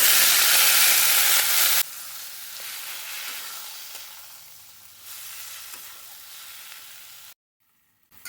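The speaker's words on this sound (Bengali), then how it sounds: "এখানে দিয়ে দেবো রসুন আর লঙ্কা" Garlic and green chilli hit hot oil in a home kitchen pan with a loud burst of sizzling that settles into a steady frying hiss, then cuts off abruptly near the end.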